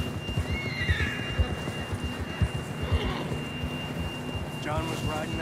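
A horse in the video game Red Dead Redemption 2 whinnies a few times over a steady backdrop of hoofbeats and low rumbling, with faint speech mixed in near the start.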